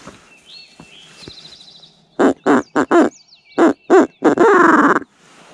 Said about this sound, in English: my owl hooter.